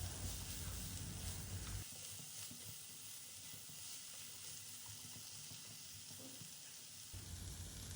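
Stir-fry vegetables seasoned with salt and black pepper sizzle in a pan while being mixed, a soft continuous hiss with louder bursts at the start and end as the pan is stirred.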